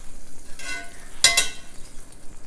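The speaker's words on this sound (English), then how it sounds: "and then we're going to cook those mushrooms" Mushrooms hit a hot pan with olive oil and a tablespoon of butter, giving a brief sizzle with two sharper crackling bursts, fairly close, with no talking.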